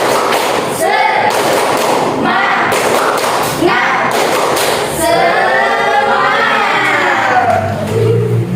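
A classroom of students doing a rhythmic spirit clap, sharp claps and thumps in unison with excited shouting voices throughout, loud and close.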